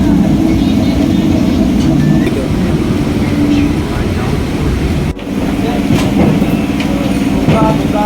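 A Bardhaman local train runs with a steady, loud rumble and rattle of the carriages. A short break cuts the noise midway, and faint voices can be heard under the din.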